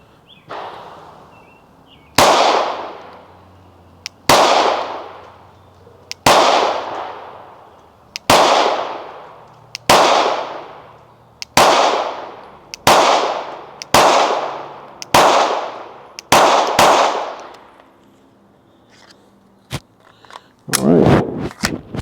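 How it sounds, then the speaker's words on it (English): A PSA Dagger pistol fitted with a suppressor fires about ten rounds at a steady pace, each a sharp, loud crack with a short decay and roughly two seconds between shots. Some fainter handling noise follows at the end. "Let's just run a couple rounds, see how accurate it is, see if we get any malfunctions"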